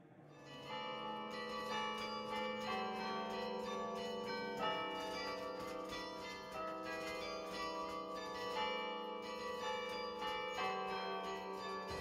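The church carillon of Grézieu-la-Varenne plays a continuous melody of overlapping bell strikes with long ringing tones that blend together, steady and full for twelve seconds with no voices.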